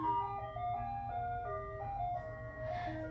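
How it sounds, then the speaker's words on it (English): Ice cream truck chime playing a steady tinkling melody of bright sustained notes, moderately distant and fairly faint, with low road and engine rumble underneath and no talking. "Is that ice cream truck?"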